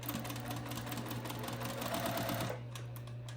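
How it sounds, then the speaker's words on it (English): A sewing machine runs a quarter-inch seam, a close, steady mechanical whir with a low hum that eases slightly in pace toward the end. "Sewing a 1/4 inch seam"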